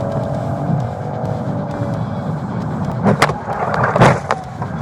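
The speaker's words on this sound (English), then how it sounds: "A pit maneuver ended the pursuit" Police cruiser ramming a fleeing stolen car in a PIT maneuver during a high-speed Gwinnett County pursuit: steady road and engine roar, then two sharp thumping impacts near the end, loud and close, with no talk.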